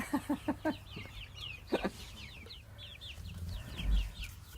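Several chickens cluck close by, a quick run of sharp clucks first, then softer chatter and scattered chirps from the flock.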